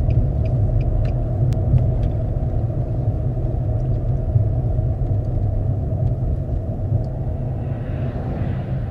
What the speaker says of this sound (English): Traffic's going by fast.